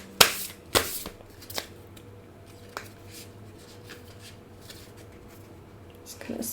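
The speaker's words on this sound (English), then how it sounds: "I'm going to pull one more card." Tarot cards being shuffled by hand: a few crisp riffling bursts in the first two seconds, then quieter scattered taps and card rustles, close and clear in a quiet room.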